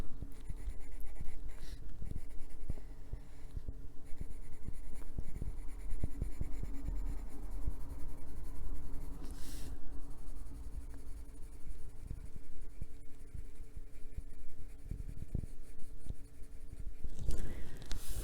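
A pen drawing on paper, steady scratchy strokes and small taps running continuously at close range, with occasional sharper scrapes.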